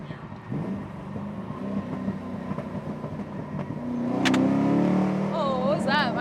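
A naturally aspirated 750 hp car pulls hard in second gear, its engine rising into a louder, harsher roar near the end over steady cabin rumble, with people talking inside the car during the run.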